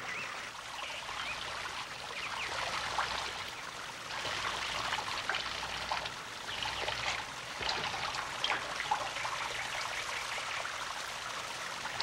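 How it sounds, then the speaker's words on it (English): Water trickles out through small holes in a container, forming a little shower: a soft, steady patter and dribble, close and fairly quiet, continuing without pause and with no talk. "the water trickles out the little holes, making a small shower"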